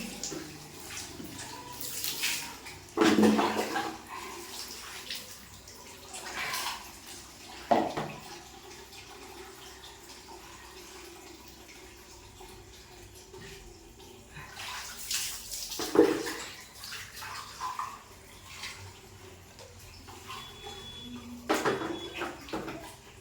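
Bathing water in a morning bath at home, poured and splashed in several separate bursts with quieter gaps between, fairly close and moderately loud, with no talk.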